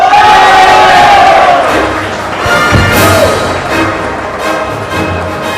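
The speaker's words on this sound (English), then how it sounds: "That's a golden cheer that we all hear" A large crowd cheers and roars at an awards ceremony of a digital industry summit in India, a loud, sustained wall of voices with scattered shouts and thuds, holding steady throughout.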